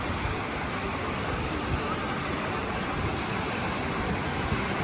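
Flooded Indrayani river near Pune rushing past in a steady, loud, unbroken roar of churning water, close by and filling the whole scene.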